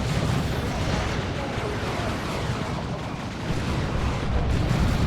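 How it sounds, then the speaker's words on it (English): Reaper Barrage artillery in Warhammer 40k: Dawn of War 2, a dense rumbling wash of overlapping explosions, continuous and loud, with voices talking over it. "Reaper Barrage coming in."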